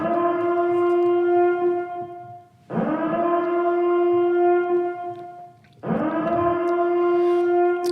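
A wailing siren at an immersive interactive ghost-story event, rising and holding in three loud, steady sustained blasts, each separated by a brief dip.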